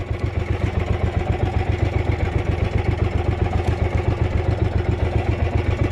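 A fishing boat's engine idles steadily on the Pacific, a loud, even clattering throb with a fast regular pulse and no talk over it.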